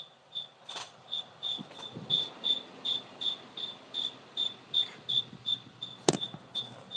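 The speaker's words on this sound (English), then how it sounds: "No, that's a cricket." A cricket chirps in steady, evenly spaced pulses, close and clear against a quiet background, with one brief sharp knock near the end.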